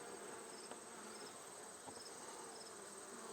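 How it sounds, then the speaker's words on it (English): Honey bees hum and buzz steadily inside a crowded beehive during small hive beetle control, a continuous close drone with no speech. "Hive is pretty full of bees"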